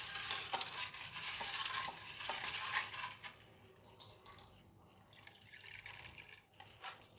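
Karamani beans rinsed in water in a kitchen, with splashing and sloshing, light clinks and drips of grains against the vessel, fairly close and steady throughout.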